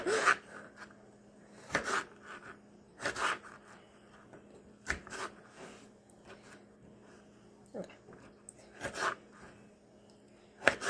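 A knife cutting vegetables for a salad on a board, irregular scraping and chopping strokes spaced a second or two apart, close and moderate, with a faint background hum.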